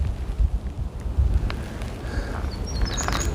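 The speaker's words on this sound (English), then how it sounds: "It's kind of breezy up here" Breezy wind on an Appalachian Trail mountain top beside a monument pavilion, rushing and buffeting the microphone in loud gusts, with faint birdsong in the background.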